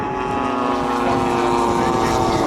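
A large radio-controlled model aeroplane flies at the Large Model Association show at RAF Cosford, its engine holding a steady, fairly loud propeller drone overhead without pause.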